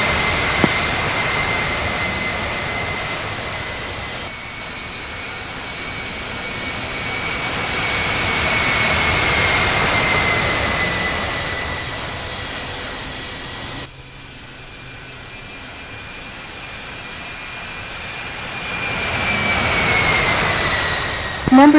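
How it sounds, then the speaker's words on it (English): Simulated Airbus A350-900 jet engines spooling up for takeoff in the Infinite Flight game, a steady loud turbine roar with a whining tone that swells, cuts briefly around the middle, then builds again, no talking. "Cleared for takeoff. Runway 26 flight."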